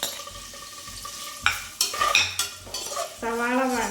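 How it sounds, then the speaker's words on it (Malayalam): Onions fry in hot oil inside a pressure cooker for a vegetable pulav garnish, a steady sizzle broken by sharp metallic scrapes and clanks of a spoon stirring against the pot. "സവാള ഒന്ന് ചൂടായി കഴിയുമ്പോഴത്തേക്ക് നല്ലോണം വറുത്ത് ഫ്രൈ ചെയ്തെടുക്കുക ചെയ്യുന്നത്."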